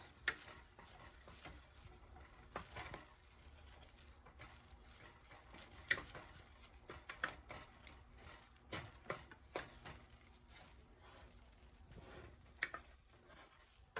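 A wooden spoon stirs a melting roux in a pan for a beer and cheddar cheese sauce, giving faint, irregular scrapes and taps close by in a quiet kitchen.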